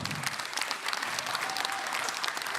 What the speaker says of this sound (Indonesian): Kita berikan tepuk tangan yang paling meriah.